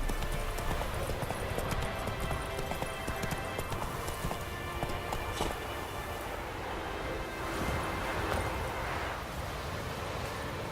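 Roach, Geralt's horse in The Witcher 3, gallops with steady clip-clop hoofbeats that run continuously throughout, mixed with a dense ambient wash of wind and movement.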